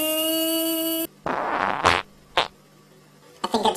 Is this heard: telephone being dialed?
no